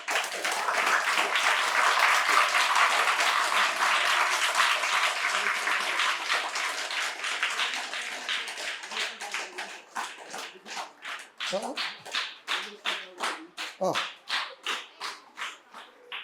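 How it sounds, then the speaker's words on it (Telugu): A school audience applauding at a Telugu language campaign event in Akkapalli, Telangana: dense sustained clapping that thins into separate rhythmic group claps toward the end. "మీ అందరికీ పేరు పేరున అద్భుతంగా నా చప్పట్లు"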